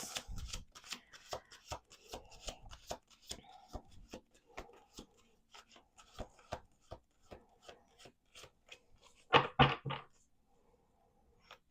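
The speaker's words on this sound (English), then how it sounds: "Let's do 2 more shuffles." Tarot cards being shuffled by hand in a quiet room: rapid rhythmic riffle taps in a steady series, ending in a louder burst of flicking close to the microphone.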